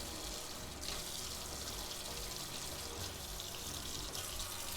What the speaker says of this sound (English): I'm gonna rinse that off.